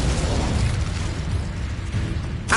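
A Confringo blasting spell explodes in Hogwarts Legacy: a loud, dense, rumbling blast that sustains with a crackling roar, followed by a sharp burst right at the end.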